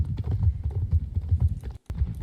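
Horse hooves clip-clopping in a video game, a rapid, even run of close hoof beats that continues steadily with a brief gap near the end, fairly loud and alone.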